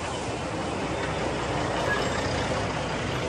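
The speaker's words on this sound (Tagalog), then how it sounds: "Ayan na nga yung mga traffic ko." Heavy city traffic on Quirino Highway rumbles steadily with trucks and buses, a dense continuous drone with no clear breaks throughout.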